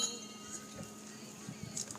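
Glasses clink a few times at a boat naming ceremony toast, light and fairly faint against quiet background noise.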